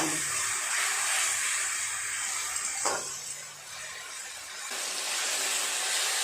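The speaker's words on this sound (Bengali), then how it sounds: "পেঁয়াজটা ভালোভাবে ভেজে নিয়েছি এর উপর দিয়ে দেবো টমেটো পেস্ট আদা রসুন বাটা ভালো করে নেড়ে চেড়ে একসাথে ভেজে নেব" Onion, tomato paste and ginger-garlic paste fry in a pan with a loud continuous hiss and sizzle. The sound dips briefly mid-way when stirred, then swells back up with no talking.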